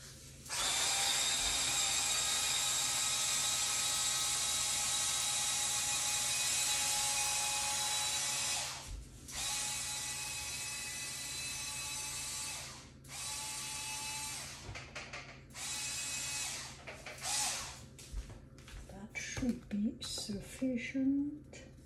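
A blender whirs steadily and loudly while blending a sardine spread with cornichons, capers and celery, then stops and restarts in shorter pulses, with a voice speaking over the final bursts.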